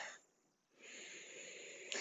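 Breathing during a floor mat exercise, heard close and fairly soft: one breath, a brief lull, then a long, steady, airy exhale.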